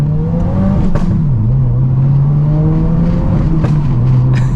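A Subaru WRX pulls hard in first gear, its engine droning loud and close as the pitch climbs, dips at a shift and rises again, with small exhaust pops crackling between shifts.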